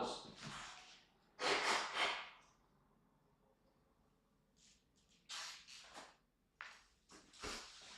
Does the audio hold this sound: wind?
no